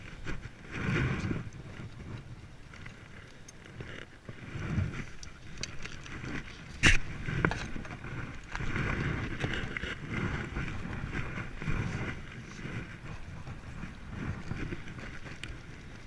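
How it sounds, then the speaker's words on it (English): Gusty wind buffets the microphone in uneven rumbling waves during a beehive inspection outdoors, with a brief sharp knock partway through and no talking. "It's kind of windy, so it's hard to kind of get the smoke"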